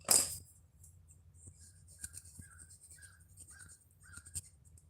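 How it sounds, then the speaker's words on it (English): Birds call outdoors, mostly crow-like caws repeating every half second or so at moderate distance, over a low background hum. "Hear the birds."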